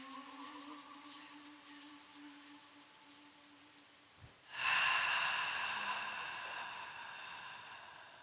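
One slow breath in a guided deep-breathing exercise: soft airy breathing, then a sharper, louder exhale that slowly fades, close to the microphone over light background noise.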